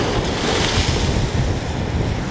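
Strong wind buffets the microphone in a continuous roar, mixed with the wash of surf close by; loud and steady with no voices. Recorded on the coast of Lanzarote.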